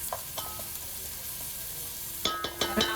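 Onion frying in a pan for a traditional spicy crab curry, with a steady low sizzle broken by a burst of sharp scraping stir strokes near the end.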